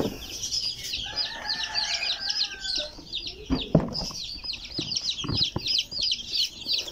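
Silkie chickens and their chicks in a backyard coop: rapid high peeping from the chicks runs through most of the moment, alongside a few drawn-out hen calls and some nearby bumps and rustling.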